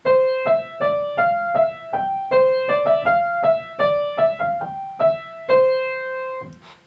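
A gentle piano melody of single struck notes plays in a bouncy rhythm, clear and close, a short sweet tune with no voices.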